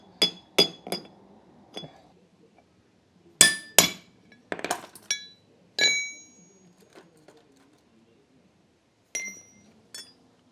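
Sharp metallic clinks of a hammer striking metal parts during a Land Cruiser swivel hub rebuild, in irregular bursts of one or two blows separated by pauses, close and ringing.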